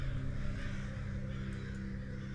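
Crows cawing in the video game We Were Here Forever, a dense ambient layer of many birds over a steady low background, continuous and fairly loud with no talk.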